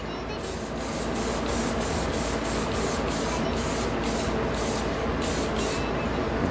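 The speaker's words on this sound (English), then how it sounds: "sometimes when you come in a little lighter on the spray, it allows you to control what you're doing" Airbrush spraying leather dye onto leather patches set on a spinning wheel: a close, steady hiss of spray with a faint regular pulsing as the wheel turns, continuous with no voices.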